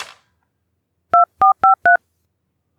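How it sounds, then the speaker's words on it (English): A telephone handset dialing a hotel reception desk gives four short, evenly spaced touch-tone beeps, clear and close, in an otherwise quiet room. "I picked up the handset and called the reception again."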